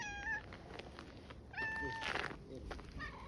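A grey-tailed, green-eyed cat meows repeatedly in short rising calls, close by, with people talking softly around it.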